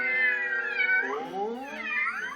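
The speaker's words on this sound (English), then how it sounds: "Oh, what's this? 3 playful kittens." Kittens meowing in close succession, a loud continuous high-pitched mewing with rising and falling pitch, no talk.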